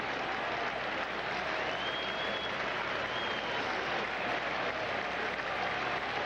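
Crowd at a Red Sox baseball game at Fenway against the White Sox, a steady roar of cheering and clapping building as a strikeout nears, distant and continuous.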